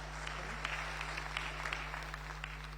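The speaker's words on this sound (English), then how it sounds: "Let's clap for." A lecture-hall audience at a university talk applauds faintly and at a distance, with scattered claps over a steady electrical hum.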